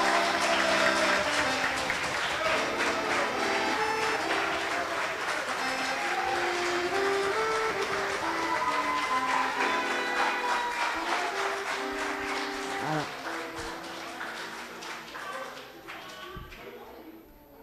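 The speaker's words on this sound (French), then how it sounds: "On peut les applaudir." Congregation in a Protestant church applauds a family with a baby, sustained warm clapping over music and murmuring voices that thins out and fades near the end.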